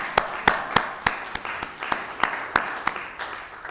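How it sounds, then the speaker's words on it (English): A few people in a nearly empty room clap slowly and unevenly for the Board of Legislators during a 2020 county State of the County address, with sparse, distinct claps at a steady pace. "we all owe the Board of Legislators a round of applause"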